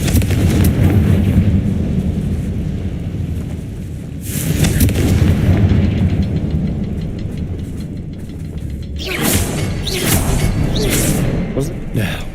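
Confringo blasting spell in the Hogwarts Legacy video game: loud, booming explosions with rumbling tails, one burst near the start and sharper cracking blasts later, over a continuous game soundscape.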